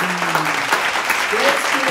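A children's church congregation claps together to acclaim the Lord, steady dense applause with voices mixed in throughout.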